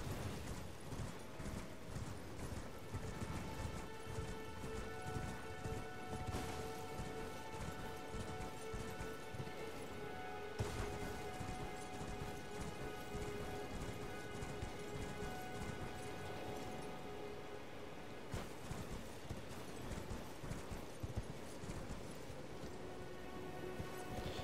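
Horse hooves gallop in Elden Ring in a quick, steady clip-clop rhythm over a constant rain-like wash, with tonal music droning underneath and no speech.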